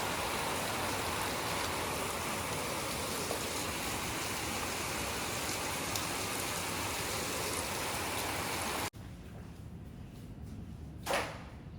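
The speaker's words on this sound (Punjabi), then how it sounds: "ਲੋ ਜੀ ਬਾਰਿਸ਼ ਮੈਂ ਤੁਹਾਨੂੰ ਦਿਖਾਈ ਬਹੁਤ ਜ਼ਿਆਦਾ ਬਾਰਿਸ਼ ਹੋਈ" Steady, heavy rain pours in a dense hiss, then cuts abruptly to a quieter patter of lighter rain with a brief rush near the end.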